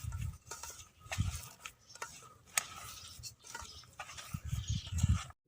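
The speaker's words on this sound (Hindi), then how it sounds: "अब इन तमाम चीज़ों को अच्छी तरह मिक्स करेंगे।" Kabab ingredients are mixed by hand in a bowl: boiled chana dal, potatoes, cumin, cloves, black cardamom, green chillies and garlic. Repeated soft clattering and squishing strokes come close by, without talk.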